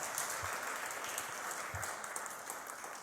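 A church congregation applauds during a sermon, a faint, steady wash of clapping with a couple of low thumps, heard at a distance.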